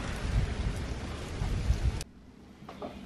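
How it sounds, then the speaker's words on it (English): A winter storm outside: steady heavy rain with a deep thunder rumble running for about two seconds, then an abrupt drop to a much quieter background. "as this winter storm is outside, I'm in my cozy house"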